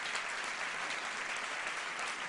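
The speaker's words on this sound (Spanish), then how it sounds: "un aplauso para él" A crowd applauds Pedro at a political event, a steady, fairly distant patter of clapping that continues throughout without any voices.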